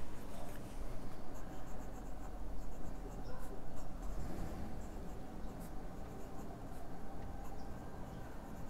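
Broad-nib Opus 88 Mini Pocket Pen writing on paper, a faint, steady scratching of nib strokes running continuously and close, with no talk.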